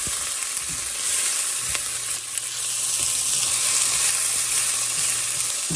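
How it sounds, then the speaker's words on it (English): Onions fry in hot oil in a pan, giving a steady, close sizzle with a faint low hum underneath and no voices. "now we are going to put our onions in this oil"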